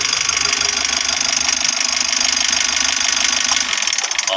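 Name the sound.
Mitsubishi L300 engine running before being switched off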